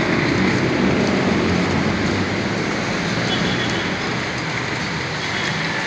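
Rain falls outdoors in Cebu City, a steady, loud wash of droplets that stays even throughout with no speech over it.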